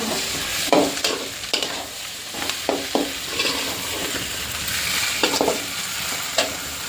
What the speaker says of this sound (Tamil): ஃப்ரெண்ட்ஸ் தக்காளி வதங்கிட்டு இருக்கு